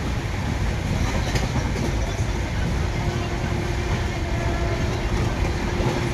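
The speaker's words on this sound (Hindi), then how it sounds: "भागती हुई ट्रेन," A running train on railway tracks, heard from aboard as a constant loud rumble and rattle with rhythmic clatter and a faint steady whine, continuous throughout with no pauses.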